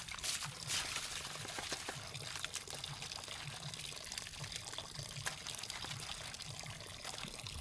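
Water is poured into a basin to see whether soap will foam, giving a steady close splashing and trickling throughout with no talk.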